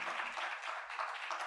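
An audience gives steady applause for a forum panel on natural resources in Hispaniola, a continuous wash of clapping heard at a moderate distance, without speech over it.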